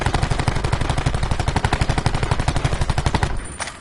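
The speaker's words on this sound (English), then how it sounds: "So we're gonna shoot the wall here, and we're gonna do a recoil pattern test." A Maddox RFB fires a long, rapid, unbroken burst at a wall in Call of Duty Black Ops 4, the shots loud and close in a fast even rhythm, stopping shortly before the end.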